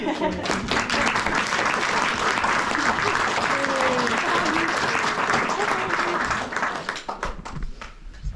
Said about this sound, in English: how about an applause for that?